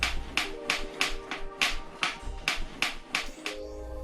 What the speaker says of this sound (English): When your stem wobbles, it might sound something like this.